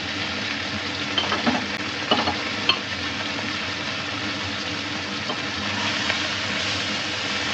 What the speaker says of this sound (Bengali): দিয়ে দিচ্ছি আমুলি মাছগুলো ভাজার জন্য